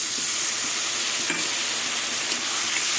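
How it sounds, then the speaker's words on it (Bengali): Spices sizzling in a pan for an okra curry, with a little water added, giving a steady, close frying hiss and a few soft clinks of stirring throughout. "এবার সব কিছু দিয়ে ভালো করে কষিয়ে নেব"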